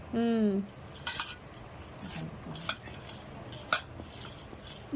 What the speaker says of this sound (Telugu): బాగా కలపాలి